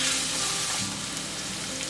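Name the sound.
ginger garlic paste sautéing in a pan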